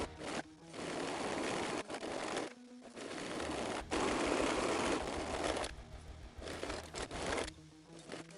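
A serger runs on dress sleeves cut from pre-smocked fabric in loud, fast whirring bursts, stopping and starting several times with brief pauses between runs, close by and without talk.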